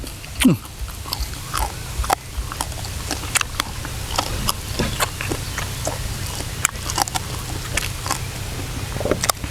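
Rat bones for a spicy stir-fry with frog crunch close up in a run of sharp, irregular cracks and snaps over a low background rumble.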